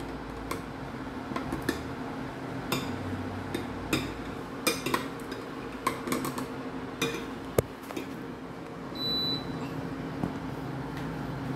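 Sujibe simmering at a rolling boil in a pot on the stove while being stirred, with scattered light ticks and clinks of a utensil against the pot over a steady low bubbling bed.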